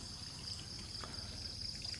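Water from a shower runs steadily in another room at lodging in Taman Negara, Pahang, a faint, continuous trickle with no voices over it.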